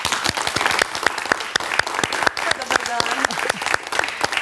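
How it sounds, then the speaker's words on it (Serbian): A studio audience applauds warmly for Angelina on a Serbian talk show, dense continuous clapping with scattered sharp claps filling the whole stretch at steady loudness. "Molim se, veliki aplauz za Angelinu."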